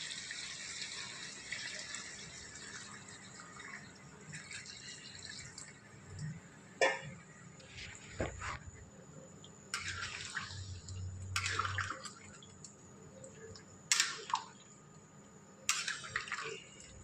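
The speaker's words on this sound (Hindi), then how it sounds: "गरम पानी ऐड करवा।" Hot water poured into a large pot of chicken curry (jhol) for about 2 kg of chicken, giving a steady running, splashing stream with a few sharper clinks and drips, heard up close with no talk.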